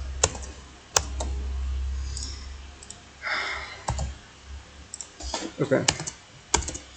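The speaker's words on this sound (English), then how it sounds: "I'm typing too fast" Rapid clicking on a computer keyboard while coding, close and bursty keystrokes with a few sharp taps, and someone briefly speaks.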